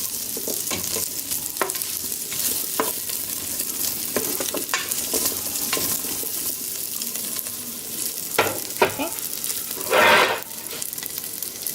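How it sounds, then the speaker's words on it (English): Salchichon sausage frying in a pot for Puerto Rican soup, with a steady sizzle under scattered scraping stirs and a brief running-water rush near the end. "You want to keep stirring it so that nothing burns or anything."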